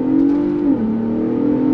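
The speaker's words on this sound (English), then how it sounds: "Hard throttle. Here we go." A 2022 Ford Bronco Raptor's engine roars under hard throttle, a loud, steady tone that holds, dips briefly as a gear shifts, then carries on strongly, heard close from inside the cabin.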